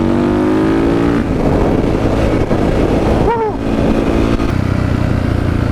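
A warmed-up, mud-dirty motorcycle engine revs loudly and close, its pitch rising and dipping through a continuous growl, with some wind buffeting and no talking.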